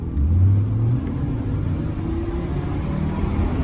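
A Hummer H3 SUV engine idles and revs steadily with a deep, continuous rumble, fairly loud and close, with no talking.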